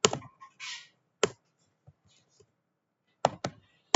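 Keys clicked on a computer keyboard while entering a command, close-up, with sharp taps in small clusters separated by near silence.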